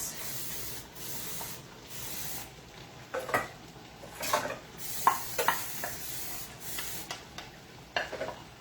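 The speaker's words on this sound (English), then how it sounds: "The spraying noise is Big Girl. She is cleaning as we go" Several short hissing sprays from a spray bottle, irregularly spaced, over a faint steady background hum with light kitchen clatter.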